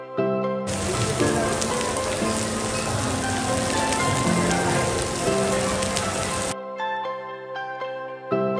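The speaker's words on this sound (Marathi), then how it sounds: "आता खूप जोरात पाऊस चालू आहे" Heavy rain pours down hard at an ISKCON temple in Thane, a loud continuous dense hiss that cuts off abruptly near the end, leaving softer dripping and a faint tonal background.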